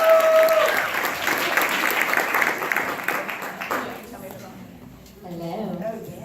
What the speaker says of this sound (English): So please give a round of applause and warm welcome to Breeanne and Chelsea.